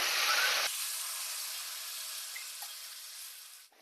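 Water poured onto sautéed mixed vegetables with tomato and coriander in a hot pan, a loud burst of sizzle that quickly drops to a softer, fading hiss, with no voices.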